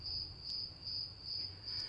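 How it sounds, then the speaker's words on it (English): Crickets chirp in a steady, shrill pulsing trill, clear and alone against a faint low background hum, in a sound effect played as a joke during a decorative sticks home art project stream. "Where's the crickets button?"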